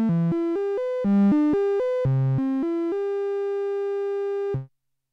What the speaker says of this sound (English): Now let's bring in the third oscillator here that we created.